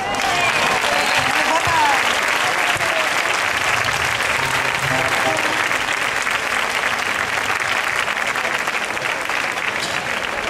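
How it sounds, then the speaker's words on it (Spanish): Sustained, loud audience applause for singers Lidia Prada and Verónica Lozano at a cultural-week concert in Chipiona, steady clapping filling the whole stretch with a crowd murmur beneath. "hay que darle un aplauso también muy fuerte, a esta muchacha que ayer la formó"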